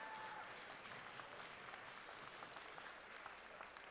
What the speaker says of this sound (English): big round of applause for all of our volunteers, please